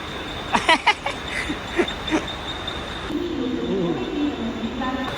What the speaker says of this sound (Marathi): आमची ट्रेन आलेली आहे